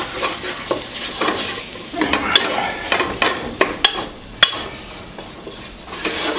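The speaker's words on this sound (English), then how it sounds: "I'm going to add about a tablespoon of flour. I'm going to stir this around." Stirring flour into a simmering vegetable stew in a pot, with close, loud scraping and clinking of a utensil against the metal, a few sharp knocks standing out over a soft sizzle, no voices.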